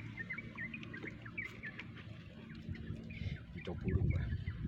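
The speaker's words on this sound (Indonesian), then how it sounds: "Kicau burung juga saling bersautan." Birds chirp and call back and forth outdoors in bright weather near Surabaya, short high tweets repeating over a low steady background hum, with a louder rumble near the end.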